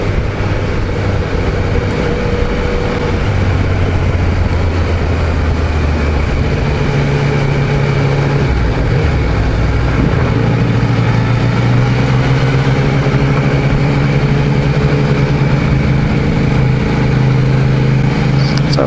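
A Yamaha Niken three-wheeled motorcycle rides along a dirt road, its engine a steady low drone with shifting pitch as it moves, loud and continuous throughout, with no voices.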